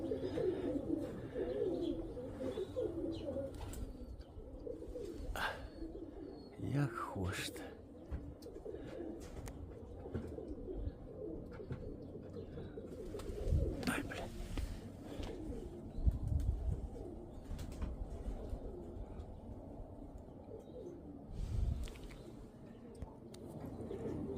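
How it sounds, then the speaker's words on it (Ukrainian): Pigeons coo softly and repeatedly over a steady low rumble of background noise, with occasional clatters and scattered chirps throughout. "Це вам різниця в голубах."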